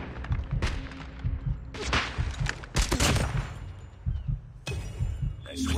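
Repeated gunfire bursts from a multiplayer shooting game, sharp cracks and fusillades spaced across the moment at close range, with brief gaps of ambient battle noise between volleys.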